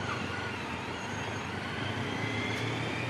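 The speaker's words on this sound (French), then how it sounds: "L'avion Air India vient d'atterrir ici" Air India airplane just landed at Plaisance airport in Mauritius, a steady broad engine roar and rumble of the jet, loud and constant throughout.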